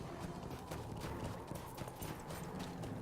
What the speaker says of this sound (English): Get back on my horse.